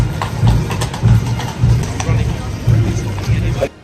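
Rhythmic low hoofbeats thud steadily and close by, with a faint murmur of people in the background.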